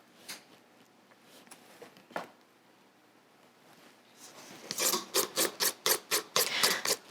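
Strawberry loaf batter is spread in a loaf pan with soft rubbing scrapes that start faint and sparse, then build into a quick rhythmic run of louder strokes toward the end.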